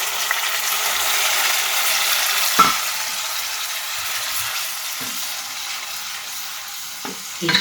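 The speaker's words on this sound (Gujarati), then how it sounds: "પેસ્ટને આપણે થોડી વાર માટે આ રીતે ચલાવી અને કૂક થવા દઈશું" Spice paste with asafoetida fries in hot oil, a steady loud sizzle with the occasional clack and scrape of a spoon stirring it in the pan, with no voices.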